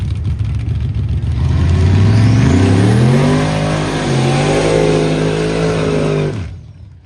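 A 1988 Chevy Silverado pickup at an airport drag race, its engine roaring loud and close, rising through revs with pitch climbing steadily, easing, then climbing again before cutting off sharply at the end.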